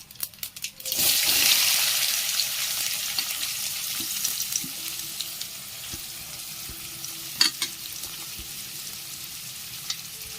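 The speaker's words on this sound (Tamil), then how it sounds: "கருவேப்பிலை போட்டு இது ஒரு வதக்கு, அப்புறம் ஒரு வதக்கி போட்டுட்டு" Onions and curry leaves sauté in a pan with a loud, steady sizzle that starts abruptly, plus a few clicks and knocks from stirring, for a Tamil-style squid thokku.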